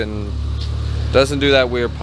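A Volvo 240 car engine idles with a steady low rumble close by, and someone talks over it through the second half.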